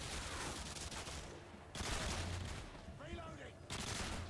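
Video game gunfire in Modern Warfare 2 Spec Ops, with dense rapid bursts of automatic shots and heavier blasts in a close, busy combat mix.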